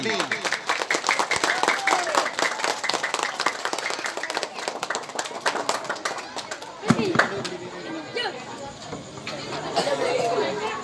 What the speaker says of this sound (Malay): Berikan tepuk tangan untuk kelompok D